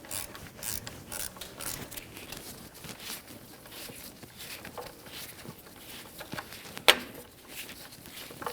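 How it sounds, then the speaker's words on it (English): A ratchet turns a 10mm socket on the oil pan bolts of a 1997-2006 Jeep Wrangler 2.4L four-cylinder, giving steady, fairly quiet mechanical clicking with one sharper metallic snap near the end. "I'm going to go around with my 10mm socket and take off all the bolts that will come off"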